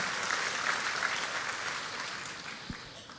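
A church congregation clapping during a sermon, a dense wash of applause from many hands that fades gradually over a few seconds, moderately distant, with no speech.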